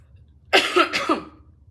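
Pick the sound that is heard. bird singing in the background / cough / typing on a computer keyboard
cough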